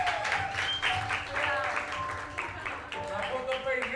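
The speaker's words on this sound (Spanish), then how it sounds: "Aplauso para Juancito, por favor" A small live audience claps for a guest on a Venezuelan comedy show, scattered applause mixed with chatter and voices talking over it throughout.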